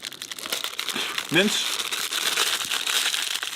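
A plastic bag holding mince for a gingerbread house crinkles and rustles up close, a continuous crackling handling noise with one sharper squeaky crumple partway through.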